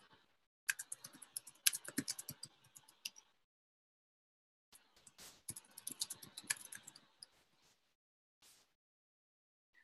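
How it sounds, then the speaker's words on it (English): Someone types on a computer keyboard nearby in two quick bursts of crisp key clicks separated by a few seconds of near silence, with no talk. "I'm just going to type that."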